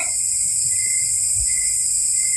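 Steady, loud cricket-like chirping from a nearby insect at night, a continuous high trill running throughout with no voices.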